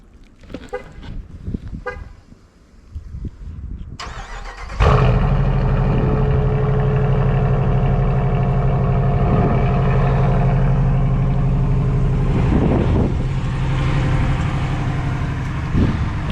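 A 2021 Dodge Durango R/T engine cold-starts on a snowy morning: faint rustling first, then a sudden loud crank and catch into a steady, strong rumbling high idle that holds throughout, close and unbroken.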